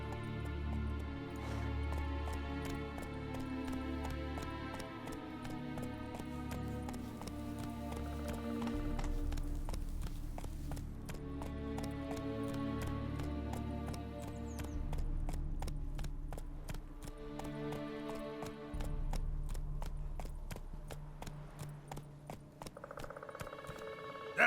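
Hooves of the horse Roach galloping steadily in The Witcher 3, a continuous rhythmic clip-clop under a layered music and ambience bed, moderately close and even throughout.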